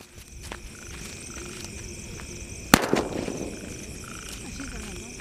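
A 'blood bomb' firework goes off with one sharp, loud bang, and a crackling, fizzing tail fades over the next couple of seconds. Faint frog-like croaks and outdoor ambience are audible before it and continue afterward.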